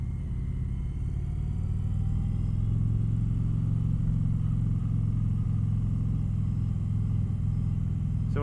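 An Indian Chieftain Powerplus Dark Horse motorcycle cruises at speed, its engine a steady deep low rumble under constant wind roar, even and unbroken from start to finish.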